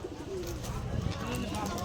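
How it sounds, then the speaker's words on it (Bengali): Pigeons coo softly in short low calls on a rooftop against a noisy background with faint voices. "এটার একটা সিমা কবুতর"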